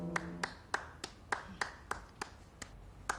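A single person's slow, deliberate applause heard up close and faintly: about a dozen separate hand claps at a steady pace with no other sound around them.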